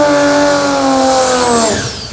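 Drag racing car at the Garrett Brisbane Jamboree launching hard for a wheel stand, a loud, close engine roaring with rising harmonics that hold steady and then begin to fade away as it pulls off down the strip.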